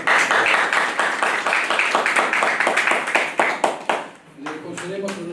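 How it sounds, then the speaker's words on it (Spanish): Applause greets a congressman at a national development planning forum, a crisp, rhythmic run of individual claps from a modest crowd that fades out as a voice begins speaking. "le pedimos con un fuerte aplauso, por favor"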